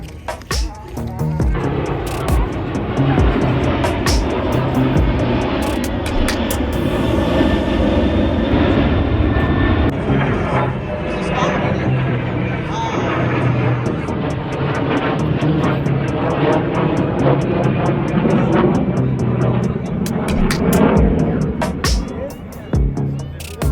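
Loud, continuous roar of aircraft engines at an outdoor air show at March Air Reserve Base, Riverside, California, with a crowd murmuring and people talking nearby throughout.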